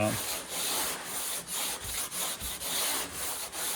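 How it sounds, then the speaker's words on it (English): Rhythmic hand wet sanding of high build primer on a 1971 Corvette, a steady rasping scrub in back-and-forth strokes with brief pauses between passes, close up and without talk. "you're going to be able to feel as you're sanding"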